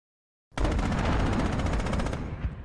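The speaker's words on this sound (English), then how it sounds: "That is mortars for you." A continuous rattling barrage of fire from the video game Squad Battles Eagles Strike, starting abruptly after a brief silence and holding loud and dense for about two seconds before tapering slightly.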